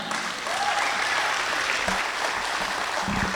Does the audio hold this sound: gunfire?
no